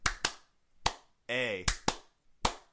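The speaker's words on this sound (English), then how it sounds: "Little clap number with this one this week" One person claps a small rhythm on a podcast, with about six sharp, separate hand claps in an uneven pattern and a brief tonal squeal between them.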